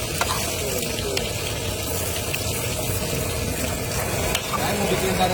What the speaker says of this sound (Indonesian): Aduk ya pak.